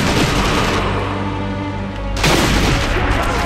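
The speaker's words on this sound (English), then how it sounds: "I'm definitely being shot at from a lot of different positions here." Gunshots in the video game Sniper Elite V2: loud continuous firing and booming that dips briefly near the middle, then a sharp renewed blast carrying on to the end.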